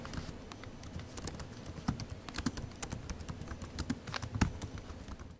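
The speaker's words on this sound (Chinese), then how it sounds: "这里我就放出打字演示体验供你们参考。" Typing on the keyboard of an ILLEGEAR Vulcan NX Arctic Edition laptop: a quiet, close run of crisp, rapid key clicks with short irregular pauses and no talking.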